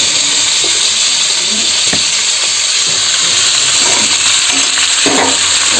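Onions and potatoes frying in a pan while being stirred: a loud, constant sizzle with occasional scraping stirs, close up and nearly free of voices.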